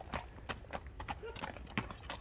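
Hooves of a bay horse clip-clop in a quick, uneven rhythm at a horse sale, fairly close, with people talking over the steps.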